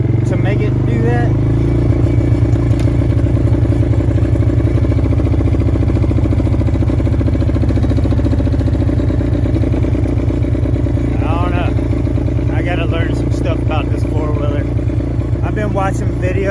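A four-wheeler engine with a suspected faulty ignition coil runs loud and close, its steady low drone broken by an uneven, rattling pulse, while someone talks over it.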